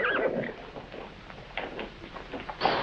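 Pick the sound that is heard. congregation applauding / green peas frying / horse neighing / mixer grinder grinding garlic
horse neighing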